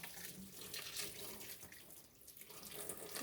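Hot water from a kettle pours steadily over a turkey being cleaned in a kitchen, a continuous splashing hiss that runs unbroken from start to end.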